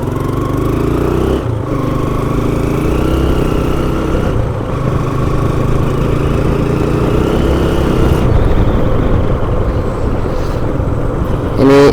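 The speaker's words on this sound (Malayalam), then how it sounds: "ബാറ്ററി ഡൗൺ ആകുമ്പോഴത്തേന് കുറച്ച് കിക്ക് സ്റ്റാർട്ട് ചെയ്യേണ്ടി വരും. അത് ഒരു വട്ടം അടിച്ചു കഴിഞ്ഞാൽ അപ്പം തന്നെ സ്റ്റാർട്ട് ആയിക്കോളും." A Hero Karizma R motorcycle with a low battery, kick-started and running: a steady, close, loud engine drone with even harmonic throb holds for the whole stretch, with a couple of brief dips and no voices over it.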